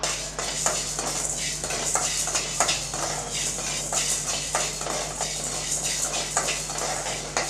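Black pepper dry-roasted in a pan without oil for tamarind rice, with repeated close scraping and clinking of a spoon stirring against the metal pan over a faint steady hum.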